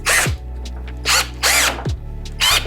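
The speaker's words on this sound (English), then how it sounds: "we're gonna take our Hercules drill" A Hercules cordless drill drives a nut onto a caster bolt for an ICON seat upgrade, with several short loud whirring bursts separated by pauses and a steady low motor hum underneath, close up and without talk.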